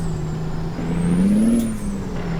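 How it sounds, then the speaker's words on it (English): A heavy truck hauling a double log trailer in American Truck Simulator pulls away in first gear, its low engine drone rising steadily in pitch and then easing off, loud and close, with no talk. "Put in first gear, take off here."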